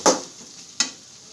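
Garlic and onion fry with salt in a pan, as two sharp scraping stirs ring out about a second apart over a faint, low sizzle.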